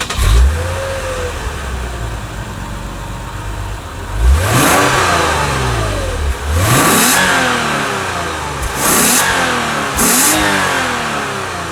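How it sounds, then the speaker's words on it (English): A 2016 Lexus IS300 F Sport's exhaust in sport mode, revving up loud and close in several rising-and-falling bursts over a steady idle, with no talking. "the exhaust in sport mode sounds so much better than a normal mode"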